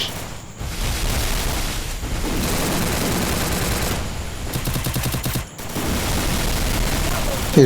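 Rapid automatic gunfire crackles almost nonstop through a mobile battle-royale shooter match in a custom four-versus-four squad game, with dense bursts and booming shots, loud and continuous, briefly dipping before resuming, while players talk over it.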